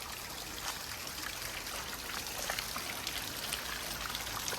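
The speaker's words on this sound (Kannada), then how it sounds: "ಇಲ್ಲಿ ಮೇಲಿಂದ ಬಂದಿರೋ ನೀರು ಈ ರಿಟರ್ನು ಈ ಥರ ಒಂದು ಪೈಪ್ ಹಾಕಿದ್ದೀವಿ" Water runs out of a return pipe carrying reused sprinkler water on a silkworm-rearing farm, a faint steady trickle and splash with scattered droplet patter and no voices.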